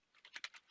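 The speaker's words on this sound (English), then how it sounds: "just typing ASMR now." Quick run of soft keystrokes on a computer keyboard, several light clicks in rapid succession, close and quiet.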